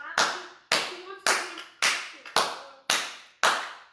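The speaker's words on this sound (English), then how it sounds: "So let's clap. Clap for all the healthcare workers." Six slow, sharp handclaps in an even rhythm, close and distinct with brief silences between them, as people clap for healthcare workers during a meditation session.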